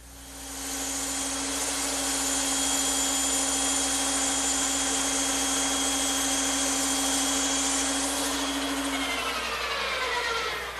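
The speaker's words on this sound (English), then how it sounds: "I'm ready to cut them on the bandsaw" A bandsaw cuts arcs into wooden blank pieces for an Adirondack chair, its motor humming steadily with a bright, sustained whine through the cut before the blade tone drops away near the end.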